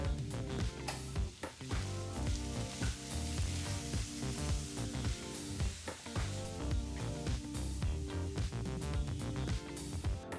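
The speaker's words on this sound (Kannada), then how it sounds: "ಈ ಸಮಯದಲ್ಲಿ ಬಿಸಿನಲ್ಲೇ ಒಮ್ಮೆ ಮಿಕ್ಸ್ ಮಾಡ್ಕೊಳ್ಳೋಣ" A hot pan of beetroot and green pea palya being stirred, with steady sizzling and repeated scraping strokes of a spoon running throughout, close and fairly loud, no talking.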